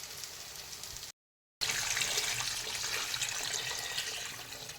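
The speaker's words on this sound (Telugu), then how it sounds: "ఇలా రసం తీసి పెట్టుకున్న చింతపండుని డైరెక్ట్ మనం ఇందులో పోసుకోవాలి" Soaked tamarind juice pours into a cooking pot of pappu charu, a steady, close, hissing liquid stream that breaks off briefly and then resumes for several seconds.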